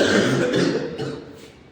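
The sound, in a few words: child coughing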